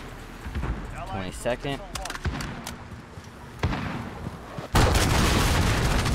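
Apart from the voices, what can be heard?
cruise missile strike explosion, from the video game Call of Duty: Modern Warfare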